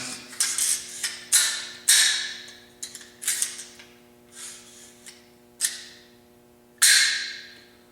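An AR-15 bolt carrier group cycled by hand during a rifle build: a series of sharp metallic clacks and slides at irregular intervals, close and crisp, over a faint steady hum.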